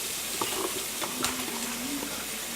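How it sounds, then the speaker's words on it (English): Chopped red peppers sizzle steadily in a hot pan, a constant bright hiss with occasional soft stirring scrapes and pops. "Nice good old sizzle."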